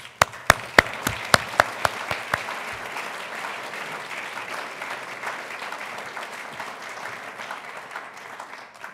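An audience applauds a speaker walking onto the stage at an evening event, sharp individual claps at first, then dense sustained clapping from a large crowd.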